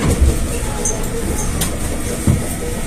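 Commuter train at Manggarai station, a steady rumbling rail roar with low engine hum and a few soft clunks, continuous and fairly close.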